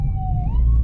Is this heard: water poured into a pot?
no